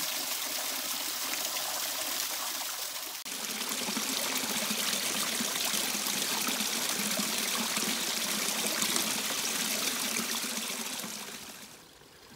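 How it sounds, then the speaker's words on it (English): A creek in Oregon spilling over small waterfalls formed by fallen trees, a steady broadband rush and trickle of water heard close and alone, softening briefly at the very end. "tree fall formed waterfalls."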